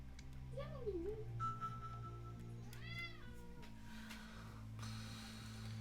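A cat in a home setting gives a couple of short meows, fairly faint against background hum, with brief rustles around them.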